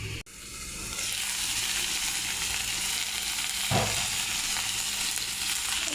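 Teasel gourd with shrimp frying in oil in a pan, a loud, steady, close hiss of sizzling after a brief clatter at the start.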